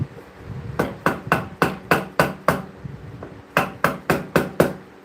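Hammer striking repeatedly, two rapid runs of about seven and six sharp, evenly spaced blows, close and loud with a short pause between runs.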